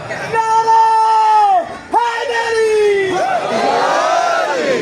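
A crowd at a Shaban celebration gathering loudly chants religious slogans in unison, with long sustained voiced calls, a brief break near two seconds, then a rising, overlapping response.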